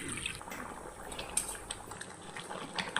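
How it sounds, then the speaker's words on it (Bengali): Water poured into thick mung dal simmering with fish head, a soft gurgling, bubbling liquid sound that stays close and continuous, with faint higher splashes and no speech. "তাই সামান্য এর মধ্যে জল দিয়ে দেবো, পরিমাণ মতন জল দেবো।"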